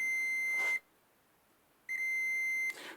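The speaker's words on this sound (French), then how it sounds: "le buzzer, voilà" A multimeter's continuity buzzer sounds in two steady, high-pitched electronic tones, each lasting nearly a second with a short gap between, clear and close with no talking.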